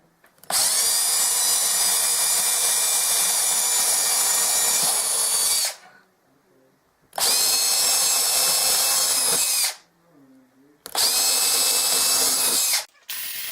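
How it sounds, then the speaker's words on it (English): A power drill boring fence post holes along a guardrail line, running in three loud sustained bursts of roughly five, three and two seconds, separated by short quiet pauses. "I want to go ahead and start drilling holes for the fence posts"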